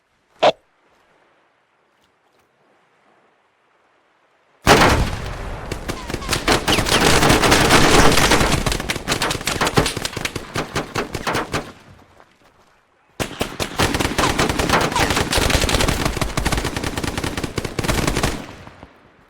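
Heavy gunfire from an Arma 3 firefight with the Poseidon mod, dense automatic bursts and loud shots after a short quiet start, dropping briefly before a second sustained barrage.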